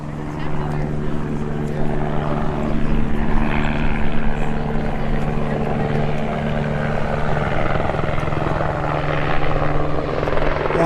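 A helicopter carrying a large camera flies over a crowd blockading a Line 3 pump station. Its rotor drone is loud and continuous throughout, with voices in the background.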